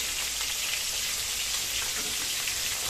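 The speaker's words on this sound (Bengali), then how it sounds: "তাহলে আমরা আস্তে আস্তে এখানে মাছটা ভেজে নিচ্ছি" Tilapia fish frying in hot oil, a steady dense sizzle that holds evenly from start to finish, close and fairly loud with no voices.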